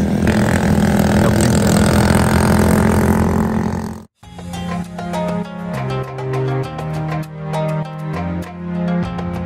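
Quad bike engines roar in the Wahiba Sands desert, a loud, dense, steady drone for about four seconds that cuts abruptly to music with a rhythmic melody.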